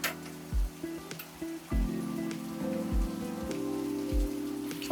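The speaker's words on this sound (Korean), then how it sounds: "이날은 유독 비가 많이 왔었는데 빗소리에 멍 한번 때려주고 시작해 볼게요" Heavy rain pours down in a steady, dense hiss of drops striking surfaces, close and continuous for the whole stretch, with no voices.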